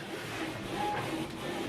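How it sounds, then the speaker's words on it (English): A Canon PIXMA TR8550 all-in-one printer prints an alignment head sheet, making a steady, close mechanical whir and rustle for a short stretch with no talking. "it's printing right now"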